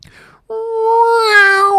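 A human voice imitates the scream of a Star Wars TIE Fighter, starting with a short breathy sound, then a rising, wavering, sustained tone that sounds like a strained cat's meow, loud and close, about a second and a half long.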